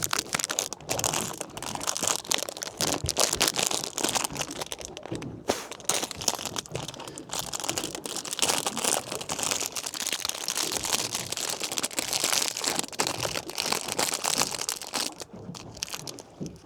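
Loud, continuous crinkling and crunching of a plastic ginger cake wrapper being opened close by, fidgety and irregular throughout, with no talk.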